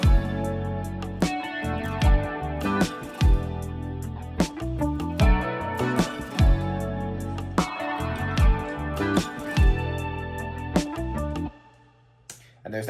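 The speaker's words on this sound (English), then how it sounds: "with those acoustic guitars that come in, it sounds like this." A produced song mix plays with acoustic guitars layered in, full-band music with strong rhythmic hits throughout, then drops away to near silence in the last moments.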